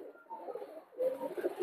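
A male Nepali pigeon cooing close by, soft throaty rolling coos in two short bursts, the second a little louder, with no voices.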